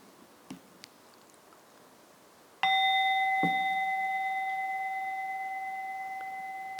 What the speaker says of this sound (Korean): 내가 저 종소리를 들어